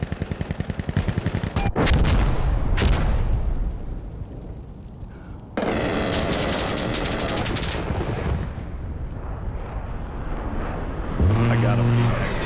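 Rapid gunfire and heavy bursts ring out during an air strafing run in the shooter game Insurgency: Sandstorm, loud and dense, with a high whine overhead and a roaring sweep of automatic fire. A voice speaks briefly over the barrage.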